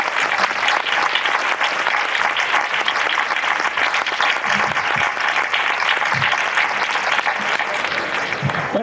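Sustained applause from a crowd honoring a rondalla string music group at a Pilar festival event in Aragon, dense steady clapping at constant loudness throughout with no talk.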